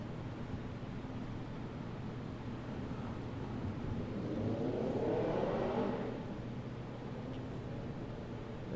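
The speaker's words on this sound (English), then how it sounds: "I just love having big motorcycles with big noise right next to my window" Big, noisy motorcycles pass right outside a window: a low engine rumble rises out of steady background noise, peaks for a couple of seconds, then fades away.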